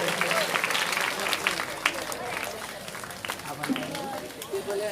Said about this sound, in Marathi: परत टाळ्या वाजवून द्या आणि जाऊ द्या